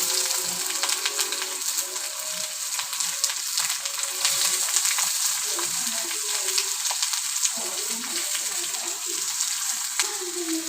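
Onion, green chili and curry leaves fry in hot oil, producing a continuous close crackling sizzle with faint stirring underneath, steady throughout.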